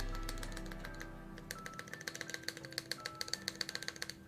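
Typing on a mechanical keyboard fitted with GMK Peaches and Cream keycaps on an orange case with Cherry stabilizers: a steady run of crisp, close keystrokes, quiet at first, then clicking rhythmically and evenly through the second half.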